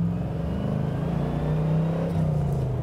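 A tuned UAZ off-roader accelerates on asphalt, its engine a steady low rumble that swells slightly as it pulls, heard alone without voices.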